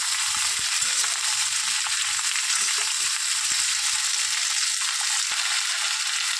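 Potatoes fry in a pan with a steady, bright sizzle while a spoon stirs them, adding soft scraping clunks and taps at irregular intervals over several seconds. No one speaks.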